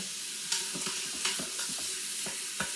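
Ground meat searing in a pan for goulash, a dense steady sizzle with repeated sharp scrapes and taps of a spatula against the pan at irregular intervals.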